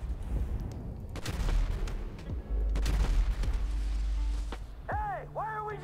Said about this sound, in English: There's guys shooting at you, Mikey.